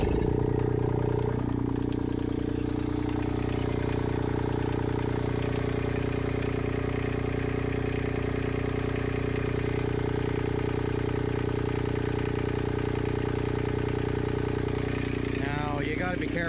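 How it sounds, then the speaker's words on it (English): A Kubota ZD1211 zero-turn mower's diesel engine catches and settles into a steady, loud idle, its low throbbing hum and clatter continuing evenly close by. "I'm going to start the engine and see what kind of pressure the pump makes."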